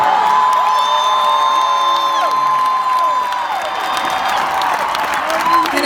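A large crowd cheers and applauds, a dense sustained roar with whoops and shouts on top, loud and continuous.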